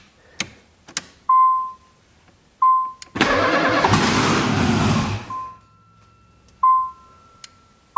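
An LS V8-swapped Nissan 300ZX, run without its fuel pump, starts for the first time: warning chimes beep, the starter cranks, then the engine fires and runs loudly for about two seconds before cutting out, followed by more chimes.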